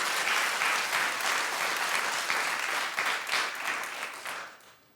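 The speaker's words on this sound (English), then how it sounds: "At the end of the claps, it always sounds like popcorn to me." A studio audience at The Wendy Williams Show claps in dense, steady applause that thins out and fades away at the end.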